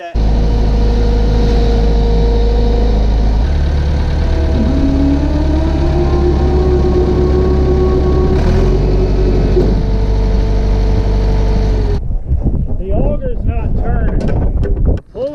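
A swather running with its auger shaft turning, a loud steady machine drone with a rising whine and heavy low rumble, then cutting off into clattering and wind near the end.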